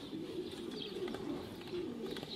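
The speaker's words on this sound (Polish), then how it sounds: "Mamy tutaj dwa kolejne ptaki lądujące." Racing pigeons arrive at a loft, with soft low cooing repeating close by over a quiet outdoor background and a few faint higher chirps.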